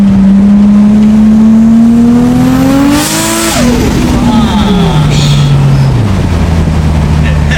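A car engine with a screamer exhaust pipe drones loudly at high revs, climbing in pitch, then drops and winds down with a raspy exhaust note; very close and dominant.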